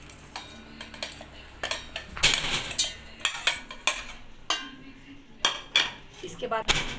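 Cooked tomatoes are scooped from a pan into a blender jar, heard as a run of close, irregular clinks and knocks of a spoon against metal and the jar, with short gaps between them.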